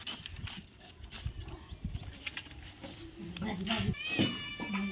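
A cat meows toward the end, fairly faint, beneath people talking and general household clatter.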